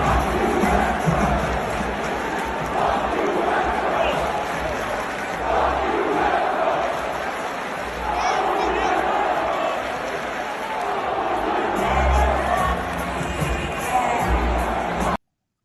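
Denver Nuggets fans in a large basketball arena booing Carmelo Anthony, a sustained roar of crowd voices rising and falling over about fifteen seconds with court thuds and arena noise mixed in.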